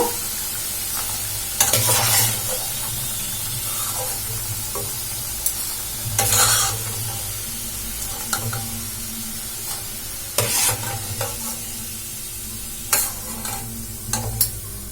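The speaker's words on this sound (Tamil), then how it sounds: "இப்போ எல்லா சைடும் வந்து நல்லா ஃப்ரை ஆகட்டும் இப்போ எல்லா பக்கமே ஆயிலில் வந்து நல்லா ஃப்ரை ஆகிடுச்சு" Leftover rice snacks deep-fry in hot oil with a steady, close sizzle throughout, broken every few seconds by brief bursts of stirring and scraping in the pan, with no talk.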